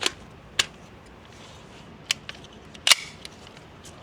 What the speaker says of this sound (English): running the Springfield Armory KUNA with the Silencer Co. Osprey.